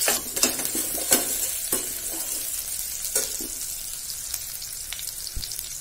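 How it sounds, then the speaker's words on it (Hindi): Cumin seeds crackle and onions sizzle in hot oil, a steady frying hiss with scattered pops and occasional stirring clinks near the pan, no voices. "जीरा तड़कने के बाद हम प्याज डालेंगे।"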